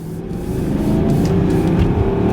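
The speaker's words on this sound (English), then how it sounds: "Mercedes V8s are so torquey. They give you a lovely sound quality coming through those AMG pipes" A 2006 Mercedes-Benz CLS 500 coupe's V8 growls through its AMG exhaust on the move, a steady, loud, deep engine drone with a strong low rumble that holds throughout.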